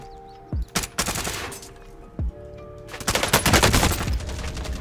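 Bursts of gunfire in the video game Warzone, single loud shots early on, then a rapid heavy volley of automatic fire toward the end, with no talking.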